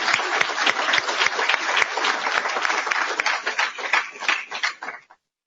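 A round of applause for the morning's speakers at a talk session, steady clapping from an audience that thins and fades out near the end.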